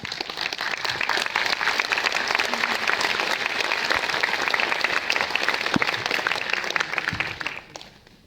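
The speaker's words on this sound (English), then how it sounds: "everybody else, if you can hold the applause" A large crowd applauds steadily for several seconds, a dense wash of clapping that fades out near the end.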